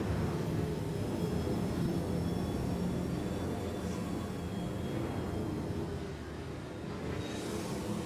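Jet engine roar with afterburner in a flight video game, a steady broadband rumble that holds loud and unbroken throughout with no pauses.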